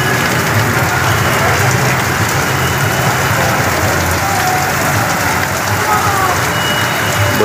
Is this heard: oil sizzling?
no